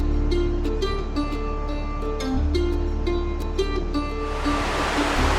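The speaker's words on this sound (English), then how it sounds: "there's all these little rushing rapids, so you get the nice soothing sound of rushing water" A small creek rushes over little rapids on a woodland hike, a steady close broadband wash of water that continues without pause, with faint tonal background sounds laid over it.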